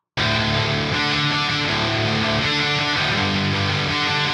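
A dense, full-band electric guitar chorus part from a song plays steadily, bright and sustained, with strummed chords ringing throughout and no talking.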